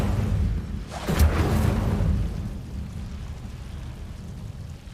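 An Incendio fire spell cast in Hogwarts Legacy, a broad whooshing burst that swells briefly and then fades into a low, steady rumbling roar.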